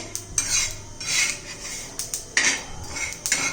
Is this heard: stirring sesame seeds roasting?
yes